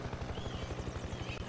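Helicopter in the Farming Simulator 22 game, a steady close rotor thump with a continuous engine whine, heard alone and fairly quiet.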